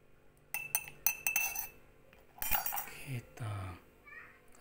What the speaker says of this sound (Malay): Kita kerok pakai sendok.